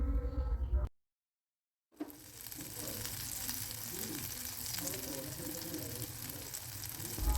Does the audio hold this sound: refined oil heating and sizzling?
yes